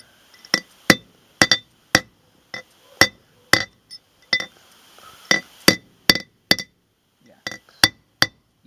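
A hammer strikes a wheel bearing race to seat it in a 1978 Chrysler LeBaron brake rotor: about fifteen sharp, ringing metallic blows in an uneven rhythm, close and loud, with brief silences between.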